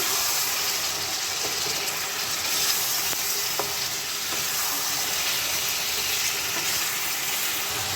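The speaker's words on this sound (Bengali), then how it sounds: "পেঁয়াজ দিয়ে মাংসটা ভাজতে ভাজতেই আমি আদা রসুনের পেস্টটা দিয়ে দেবো।" Chicken frying with onion and ginger-garlic paste in a pan gives a steady, loud, close sizzle and hiss that continues without a break, with faint stirring scrapes and no voices.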